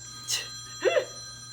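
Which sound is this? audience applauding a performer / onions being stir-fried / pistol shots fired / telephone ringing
telephone ringing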